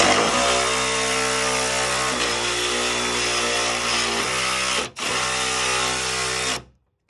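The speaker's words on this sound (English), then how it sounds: "We're gonna loosen this bolt back here." Power ratchet or impact tool loosening a bolt on a 2020 Silverado with a 6.2-liter engine, a loud steady mechanical whir that runs continuously, breaks briefly, resumes, then stops abruptly.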